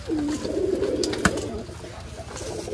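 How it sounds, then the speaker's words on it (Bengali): Rajshahi Giribaj pigeons coo in a wooden loft on a pigeon farm, a low rolling call close at hand, steady over a faint rumbling background with one sharp knock. "কিছু জাগ কবুতরের বাচ্চা"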